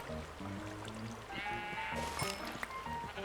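Sheep bleating in Minecraft on a survival farm, several short wavering bleats repeating at moderate distance over a soft steady background of trickling water.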